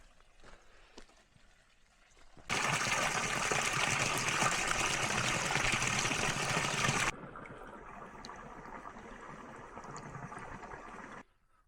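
Water flows steadily in a national forest campsite, a broad continuous wash that surges loud for several seconds, then settles to a softer steady trickle before cutting off.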